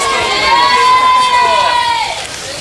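A large crowd of football fans and Christmas shoppers waiting for Ryan Giggs to arrive, a loud mass of voices with a shrill whistle-like tone rising above it, the noise fading slightly toward the end.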